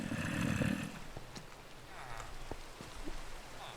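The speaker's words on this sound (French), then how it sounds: "Oh, il pleut." Steady rain pattering in the Minecraft video game, a broad wash of drops that is loudest at first and then holds at a lower, constant level, with a few soft thuds and clicks from the game over it.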